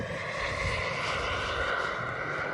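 A quarter-scale radio-controlled Fouga Magister model jet flies over Morlaix airport at an air show, a steady, loud turbine whine and roar sustained throughout without a break.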